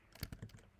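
Several quick plastic button presses on a Casio CG50 graphing calculator keypad, crisp close clicks in an uneven run with no talking.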